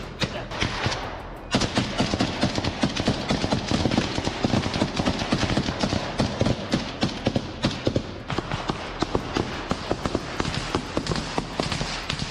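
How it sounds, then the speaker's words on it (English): Close-range gunfire exchange in combat in Kharkiv: dense, rapid shots and bursts crackle almost nonstop for about twelve seconds, loud and near. "both sides shout as they trade fire"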